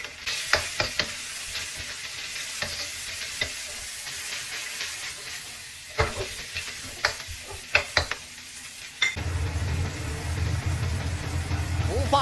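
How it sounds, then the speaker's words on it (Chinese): Pickled mustard greens and salted pork belly stir-fry in lard over high heat, with crisp spatula scrapes and clanks over a hiss that swells into a loud, dense sizzle near the end. "放入配菜，一起大火爆炒。"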